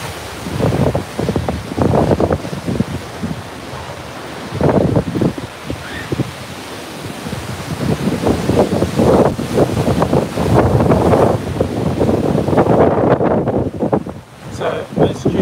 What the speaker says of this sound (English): Cute waves out there.